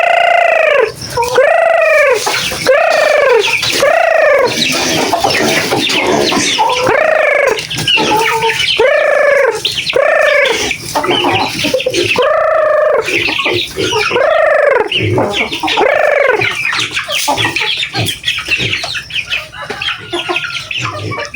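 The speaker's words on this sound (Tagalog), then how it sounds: "Ito yung mga alaga naming manok." Pet chickens on a farm cluck loudly and close by, a busy run of repeated rising-and-falling calls with brief pauses, one hen answering another.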